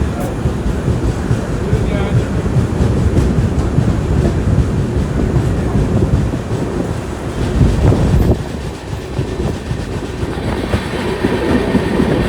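The Tirunelveli–Jamnagar Superfast Express pulls into Tirur station with a loud, steady rumble of rolling wagons, faint clickety-clack, and wind buffeting the microphone throughout.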